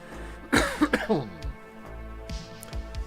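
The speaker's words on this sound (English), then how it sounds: "Let me clear my throat." A man clears his throat with a few harsh, coughing rasps close to the microphone, followed by quieter, softer throat sounds.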